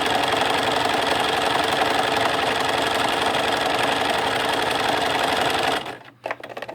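A sewing machine stitches down the second side of a fabric piece with a long stitch length, running loud and steady for about six seconds before stopping, followed by a few faint handling knocks.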